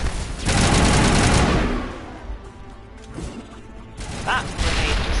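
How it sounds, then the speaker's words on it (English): Grenade explosion in the video game Mass Effect, a loud close boom with a long roaring tail, then softer mechanical clatter and a few gunfire-like bursts. "That grenade just went frickin' miles."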